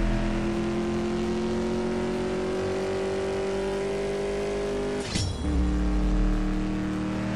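A race car in the CSR Racing 2 mobile drag-racing game roars under hard acceleration, holding a loud steady engine drone before a sharp gear shift and a renewed rising pull, with no talk.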